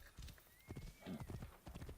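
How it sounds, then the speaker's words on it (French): Hooves of a Dalmatian-spotted horse clip-clopping in the Assassin's Creed Origins video game, a steady trotting rhythm of repeated muffled thuds, moderately loud with no talk over it. "c'est un cheval dalmatien un peu"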